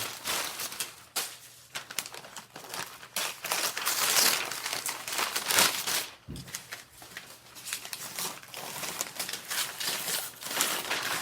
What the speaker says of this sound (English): I like to try to get rid of the paper first before the tape.